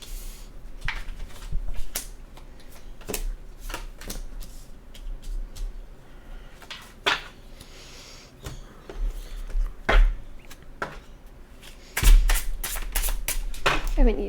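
A tarot card deck is shuffled, cards riffling and slapping repeatedly in bursts of crisp flutters and taps, close by, continuing steadily with a louder flurry near the end.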